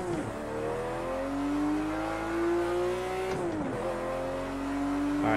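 Race car engine in Project Cars 2 revving steadily and climbing in pitch, dipping briefly on a gear change before pulling up again, loud and continuous with no talk.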